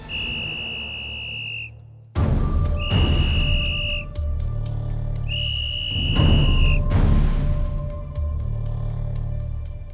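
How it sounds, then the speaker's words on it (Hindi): A whistle blown on a celebrity cooking competition set gives two long, loud shrill blasts with a pause between, followed by a lingering studio hum. "अब मैं बजाती हूँ किसी की सीटी।"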